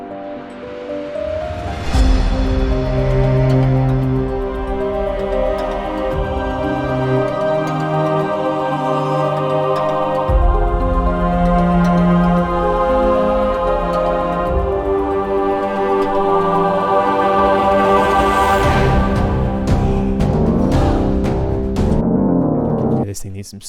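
A loud, sustained music track with layered tonal instruments and soft strings holding long notes underneath, playing continuously.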